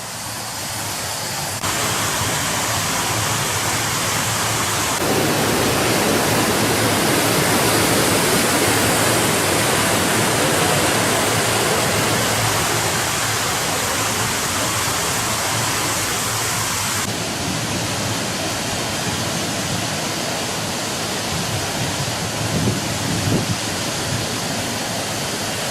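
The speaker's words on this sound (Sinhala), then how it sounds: "අර ඔය එන වතුර ඔක්කොම ඇවිල්ලා අතන අර මේ ගල් වලට වැටෙනවා." Golumale stream water pouring over rocks and dropping into a rock pool, a loud, steady, broadband rush of falling water that fills the whole stretch without a break.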